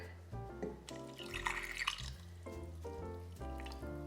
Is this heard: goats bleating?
no